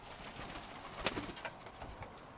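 Faint coos of pigeons, including a half-tailed one, over a hiss of outdoor background noise, with a brief sharp sound in the middle.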